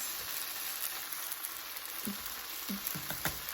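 Dry spice mix for a cauliflower vegetable curry frying in a hot pan, a steady close sizzle with a few soft stirring scrapes near the end, no talking.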